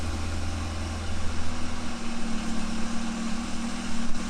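A BMW F30 328i with a catless downpipe idles steadily nearby, a low, even engine drone with a constant deep hum that holds throughout, with no talk over it.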